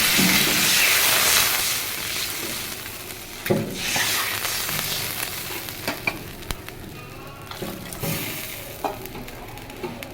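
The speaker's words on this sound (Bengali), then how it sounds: "এবারে আমি জল দিয়ে দেব।" Water poured into a frying Bengali dhokar dalna curry in a pan, with a loud broad sizzle that bursts at first and then eases into a steady bubbling hiss with scattered stirring clicks; no talking.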